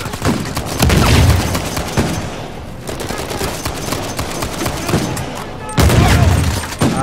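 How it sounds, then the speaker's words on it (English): Grenade blasts and bursts of gunfire during a firefight in the video game Uncharted 4. Loud booming explosions come near the start and again toward the end, with rapid shots crackling between them and a voice briefly under the noise. "Oh, the grenades."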